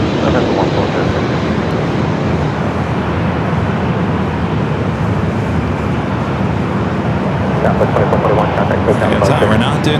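A heavy jet airliner takes off at Los Angeles airport (LAX), its loud, continuous engine roar rising and holding steady, with a voice talking over it.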